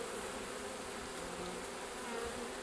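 Honey bees drone steadily at an open hive during a spring colony check, a dense, continuous buzz that fills the space at an even, moderate level with no voices.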